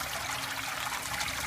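Steady water trickling and splashing from the rainmaker bar of a home aquaponics system, a continuous close hiss of falling droplets with no voices.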